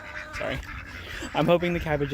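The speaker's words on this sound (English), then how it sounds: "Sorry, these ducks." Ducks quack near a backyard vegetable garden where a low tunnel is being built, a few loud honking calls breaking in over a person talking close by.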